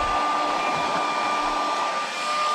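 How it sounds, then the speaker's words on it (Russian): A hair dryer blows steadily and close up while warming the engine of a motocross bike for a winter cold start, a continuous loud whirring hiss with a fixed motor whine throughout. "Андрей, надо фен держать там минут 10-15, чтобы все прям теплое там было."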